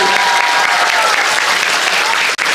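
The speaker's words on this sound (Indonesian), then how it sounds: "Tepuk tangan dulu untuk warganya luar biasa teman-teman." Steady, dense applause from a crowd of residents at an Isra Mi'raj commemoration gathering at a mosque, loud and continuous with a brief break near the end.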